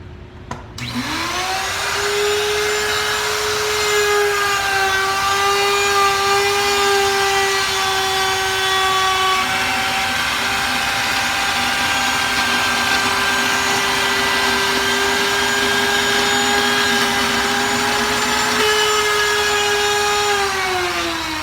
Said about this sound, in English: By the way, the horrible noise this router makes has to do with the brushes that are on in the motor.